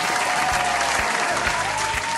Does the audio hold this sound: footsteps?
no